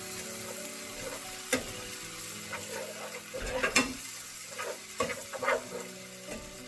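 Ginger and garlic paste sizzling in a pan as it is stirred, with a steady frying hiss broken by repeated scraping and clacking strokes of a spoon against the pan, close and without talk.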